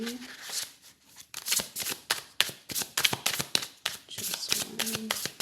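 Tarot cards being shuffled by hand, a quick run of crisp riffling flutters and taps in irregular bursts, close up, with a voice speaking over parts of it.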